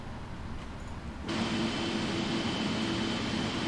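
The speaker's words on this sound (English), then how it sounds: "Those are some loud engines, I must say." Jet engines of a Boeing 777-200LR in the P3D flight simulator spool up into a steady, loud broadband roar with a sustained hum, continuous and close after a quieter start.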